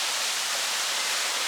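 A waterfall on Trinidad's north coast pours steadily into a swimming pool, a dense, even roar of falling water that stays constant and close throughout with no voices.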